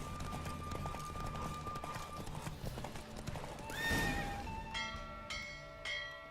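Rapid hoofbeats of several galloping horses in The Witcher 3: Wild Hunt run throughout, joined by a whinny midway and bright chiming tones near the end.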